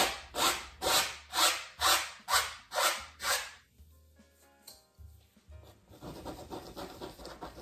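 Up close, a palette knife scrapes oil paint across a black canvas in seven regular, rasping strokes, each swelling and fading, followed by quieter, scattered scraping and tapping.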